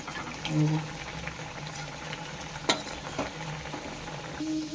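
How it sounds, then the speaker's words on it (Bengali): Pea-stuffed kachori dough rounds slide into hot oil in a wok, giving a soft steady sizzle with occasional bubbling and a sharp clink, quiet and close, with speech over it. "কচুরিগুলো ছাড়া হচ্ছে।"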